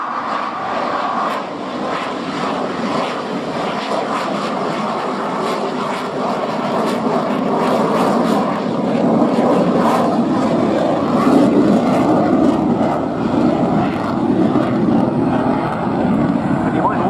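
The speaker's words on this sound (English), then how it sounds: "as the aircraft made that slow speed run" A jet aircraft makes a slow-speed, high angle of attack flypast at an air show, its engine roar swelling gradually and staying loud and sustained, with a broad rushing tone throughout.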